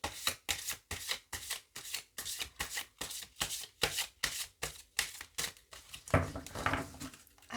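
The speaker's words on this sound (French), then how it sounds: "Je vais vous tirer 3 cartes." An oracle deck of Ganesh cards is shuffled rapidly by hand for a reading, a close, rhythmic series of papery riffles and slaps, ending in a longer rustle as cards are drawn.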